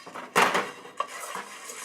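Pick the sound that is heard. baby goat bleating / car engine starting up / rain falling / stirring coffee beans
stirring coffee beans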